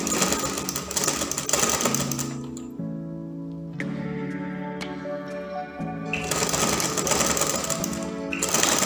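A Butterfly sewing machine runs steadily as it stitches fabric, making a continuous mechanical whir with rapid ticking. The machine pauses briefly in the middle, leaving a quieter hum, then speeds up again.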